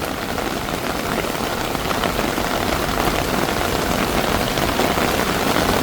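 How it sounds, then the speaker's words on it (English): A heavy rainy-season downpour pours over Bangkok, a thick, unbroken roar of water hitting surfaces that stays loud and even from start to finish. "Therefore, one of the biggest rains of the year."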